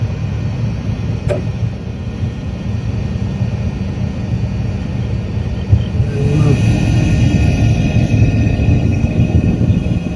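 A faulty car engine with a suspected oil pressure problem drones with a loud low rumble that grows rougher and heavier partway through, with a brief chime early on.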